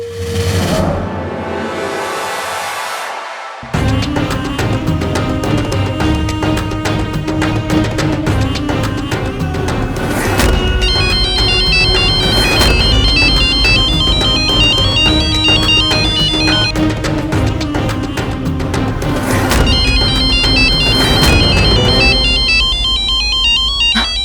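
An incoming phone call plays a loud, melodic phone ringtone that loops continuously for a long stretch after a brief quieter lead-in, with no one talking over it.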